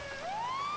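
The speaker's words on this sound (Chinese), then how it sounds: "先关个警铃，不要上警车" Police car siren in a video game roleplay, a single rising wail sweeping upward, faint and brief with no talk.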